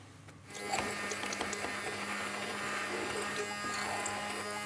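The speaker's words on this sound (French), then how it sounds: "Et là, il n'y a plus qu'à mixer." A blender runs as it purees smooth caramel for a winter tatin dessert. The motor buzzes steadily and fairly quietly after a short start-up, with faint clatter mixed in.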